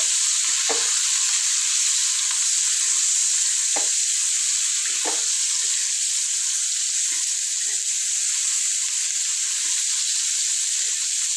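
Budamkaya cucumber frying in oil over a low flame makes a constant, even hiss that never lets up. Occasional soft stirring taps sound against the pan.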